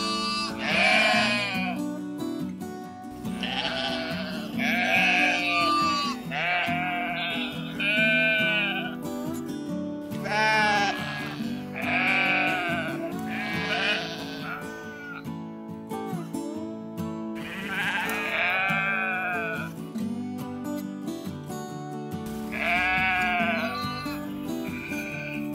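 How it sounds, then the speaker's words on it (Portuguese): Farm sheep bleat repeatedly and loudly, one wavering call after another in a steady series that lasts throughout, with no talking. "Ovelhas são animais sociais que vivem em rebanhos."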